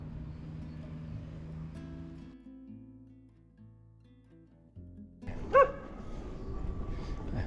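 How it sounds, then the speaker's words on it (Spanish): A dog barks and yips somewhere along a cycling route in southwestern France, a few sharp loud barks rising out of quieter road noise toward the end. "Perro."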